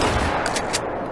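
Rapid burst of gunfire while pheasant hunting in the video game theHunter, several sharp shots fired in quick succession over a short span, loud and close.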